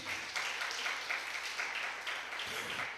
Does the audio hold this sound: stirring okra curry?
no